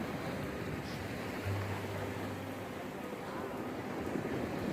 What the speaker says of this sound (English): Look at this wave.